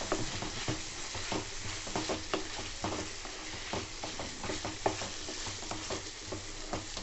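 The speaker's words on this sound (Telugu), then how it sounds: "పసుపు యాడ్ చేసుకొని కలుపుకున్నాను" Chicken curry sizzles gently in a pan as turmeric is stirred in, with a steady soft frying hiss and frequent scraping clicks of the spoon, close up but fairly quiet.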